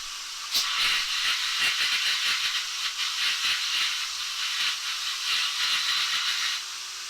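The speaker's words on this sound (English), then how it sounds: "That vacuum cleaner was a little stronger than I expected" Vacuum cleaner blowing dust out of a lint-clogged Toshiba L300 laptop: a loud, continuous rushing hiss of air with rapid fluttering pulses, heard alone.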